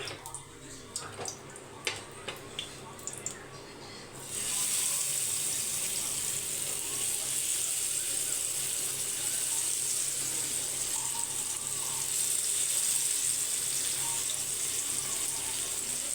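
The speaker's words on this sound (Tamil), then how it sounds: "இப்போ தோசைக்கல்லில் எண்ணெய் ஊற்றி வச்சாச்சு மீனை போட்டுடலாம்" Fish fried in oil on a dosa pan gives a sudden loud, steady sizzle after a few earlier clicks and taps, the hissing crackle continuing close and even to the end.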